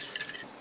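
A wire whisk stirs crepe batter made of eggs, sugar, salt and milk in a bowl, producing a brief run of quick, soft metallic clinking and swishing strokes, close and quiet.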